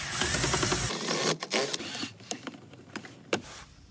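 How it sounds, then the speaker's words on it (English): A power drill fitted with a Phillips bit backs screws out of a plastic interior panel in a Toyota Camry: a short whirring burst, then a series of sharp clicks and light knocks. "you're going to use a Phillips bit to remove 2 screws"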